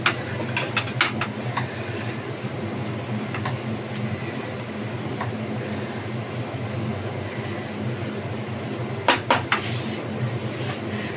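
A lid placed on a pan of upma cooking on the stove gives a few light metallic clinks, one cluster near the start and another near the end, over a quiet steady kitchen hum.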